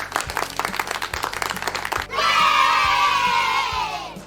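Children applaud during an English class broadcast, a quick burst of clapping followed by a sustained, loud chorus of young voices cheering and shouting together that fills the second half.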